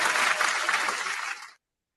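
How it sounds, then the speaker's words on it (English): Brisk, loud applause from a small group on a mixshow podcast, close and dense clapping that cuts off abruptly after about a second and a half, followed by silence. "Round of applause for that"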